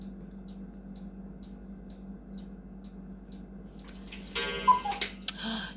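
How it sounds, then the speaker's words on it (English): A cuckoo clock ticking in a quiet room, faint regular ticks over a low hum, followed by a brief burst of louder mechanical noise near the end. "Did you hear that? It's my cuckoo clock. It's working again."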